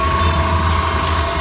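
A large idling bus engine in Kunming, China hums low and steady nearby, with a constant mechanical drone and faint higher whine.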